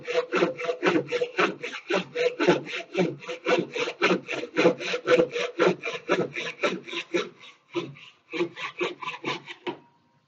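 A handsaw cuts a wooden dowel core to length in a steady series of rapid back-and-forth rasping strokes, close and fairly loud, with a short pause and then a few more strokes near the end.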